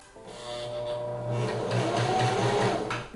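A sewing machine runs a straight stitch with polyester top thread and stretchy Elo Flex bobbin thread, its steady close whir holding throughout.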